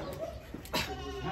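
A goat at a commercial goat farm gives a short, fairly quiet bleat against faint background noise.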